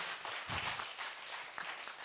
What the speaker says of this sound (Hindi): तो डुग्गू के लिए एक बार जोरदार ताली बजा दें।